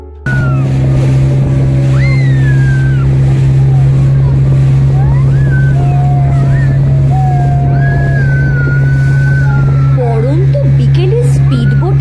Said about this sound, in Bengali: ফাইনালি চেপে বসেছে স্পিড বোটে।